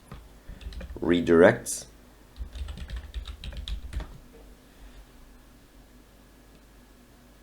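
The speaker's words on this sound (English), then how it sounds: "And here in the search, just type in URL" Quick bursts of typing on a computer keyboard into a search box, a short run of light key clicks near the start, followed by someone speaking briefly over faint scattered clicks.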